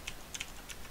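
Quick bursts of computer keyboard typing while writing Python code, four or five clustered key taps in a light, clicky rhythm, close and fairly quiet against a soft room hiss with no talking.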